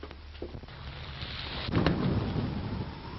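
Thunder from an approaching storm rumbles low and grows to a loud, rolling peak midway, with rain hissing underneath and no one speaking.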